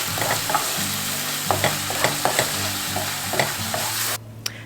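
Onions and garlic sauté in a pan with a steady close sizzle, broken by repeated scraping stirs, until the frying noise suddenly drops away near the end.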